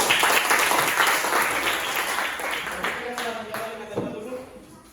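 Applause for a student group in a geography classroom, a dense wash of clapping that starts full and gradually thins and fades over about five seconds.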